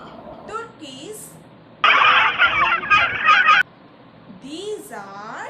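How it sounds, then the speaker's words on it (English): A loud, continuous burst of turkey gobbling, harsh and rattling, lasting a couple of seconds between bits of a woman's speech in a farm-animals lesson. "turkeys."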